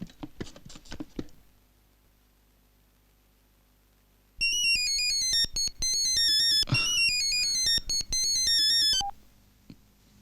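A mobile phone ringtone plays during a scene in a Malayalam film, a bright repeating electronic melody that starts abruptly after a quiet pause, sounds loud and close for several seconds, then cuts off.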